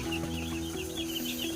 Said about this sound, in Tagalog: Okay naman yung mga sisiw.